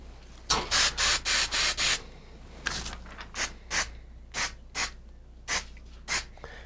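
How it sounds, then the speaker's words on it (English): An aerosol can of 377 spray adhesive hisses in a quick run of five short bursts, then pauses and sprays in slower, spaced single bursts. "I'm going to spray the 377 on the back of this crow"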